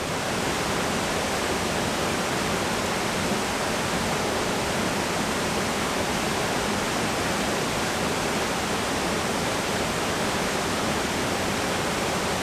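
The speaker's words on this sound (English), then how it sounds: "The water is rushing through the falls," Waterfall water rushes through the falls in a loud, steady, unbroken roar that fills the whole stretch, with no other sound over it.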